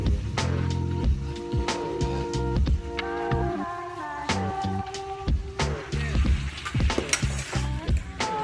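Green chillies hiss and crackle in hot oil in a pan, a steady close sizzle broken by sharp spitting pops and stirring clatters throughout.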